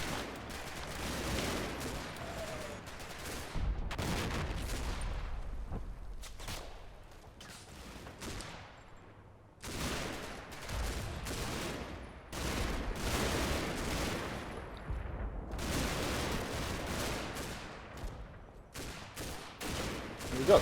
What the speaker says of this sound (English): we've got quite a lot of fire going out